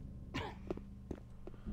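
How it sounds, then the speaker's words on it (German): An orc in the video game Gothic coughs, a few rough, muffled coughs and throat sounds at low volume over a steady game background. "Und dann hustet der mir so in den Nacken."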